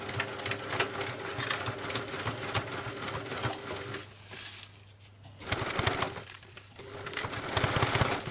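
A domestic sewing machine stitching fabric for a round basket, running in a fast, steady mechanical whir close to the microphone, then pausing briefly and starting again in short runs.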